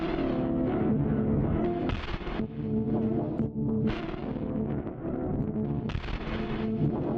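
Eventide CrushStation distortion effect: heavily distorted, crunchy tone that crackles and breaks up, with loud gritty bursts repeating over a few seconds.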